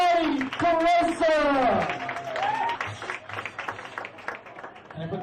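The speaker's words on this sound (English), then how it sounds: "Clap your hands loud for Mr. DeRosa." Audience applause and clapping at a stand-up comedy show as the headlining comedian is welcomed to the stage, a dense, loud crowd wash that carries on with voices and cheering mixed in over it.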